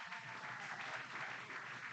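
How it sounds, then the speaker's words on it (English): Crowd at an American Legion baseball doubleheader gives a standing ovation, steady applause and clapping from the stands filling the short stretch, fairly distant and even in level. "He gets a standing ovation here from this crowd"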